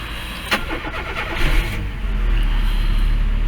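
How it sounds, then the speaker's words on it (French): A cold car engine cranks with a sharp click and whirring starter, catches and settles into a loud, close, rumbling idle. "on démarre le véhicule et on vous montre comment ça fonctionne"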